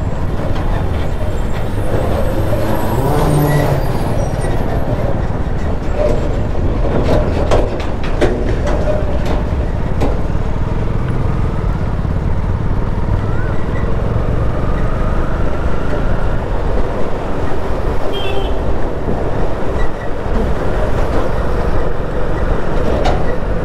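A goods train rumbles past close by, a loud sustained roar of wagons with clattering rail noise and intermittent squeals lasting throughout.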